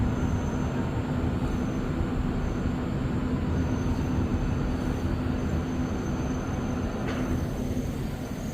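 An REM light metro train at McGill Station, heard as a continuous loud rumble of rolling wheels and motors in the underground station, with a faint high squeal near the end.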